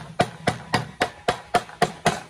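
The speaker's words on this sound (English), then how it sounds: "hammer them all the way across." Sharp hammer blows drive extendable plates into the channels of a pet door insert, eight evenly spaced strikes in steady rhythm, close and clear with no talking.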